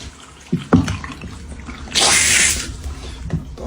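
Water runs from a tap during a plumbing flow test in a house, with a few knocks and clatters, then a louder burst of strong gushing flow before easing back to a steady trickle.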